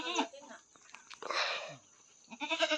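A three-day-old newborn goat, unable to stand on its own, bleats close by in wavering, nasal cries at the start and end, with a noisy rustle between and voices faintly present.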